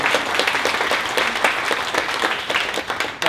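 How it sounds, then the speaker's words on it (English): Dense, steady applause from an audience at a film world premiere in Cairns, many hands clapping together at close range for the full stretch without any talk. "give him a clap"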